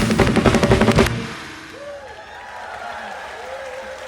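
Clapping and cheering from a concert audience rise for a band on stage, loud and dense for about a second before fading into murmuring crowd noise with faint whistles and scattered voices.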